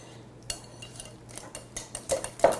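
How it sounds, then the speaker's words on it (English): A whisk clinks against a bowl while beating the egg mixture for a Canadian bacon and baby bella mushroom quiche, making irregular light taps that grow louder and busier toward the end. "I've got that all mixed up, good and whisked."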